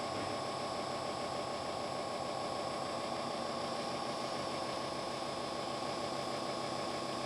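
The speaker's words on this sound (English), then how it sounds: "So now the injectors are cycling, like as if the engine's running." Cummins diesel injectors on a test bench, pulsing in a fast, even mechanical ticking with a steady whir, as if the engine were running, continuous and fairly faint.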